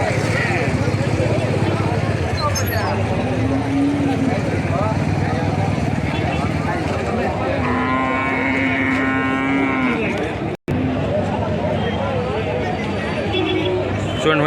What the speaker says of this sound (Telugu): ఇది జెర్సీ ఆవు ఉంది